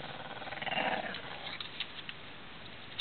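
A dog growls in a low, rumbling tone that swells and fades over a few seconds, fairly faint and slightly distant, followed by a few soft thumps.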